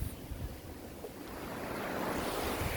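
Sea waves washing onto a beach with very clear water, a steady broad wash of surf building slightly over a few seconds, with some wind noise on the microphone and no talking.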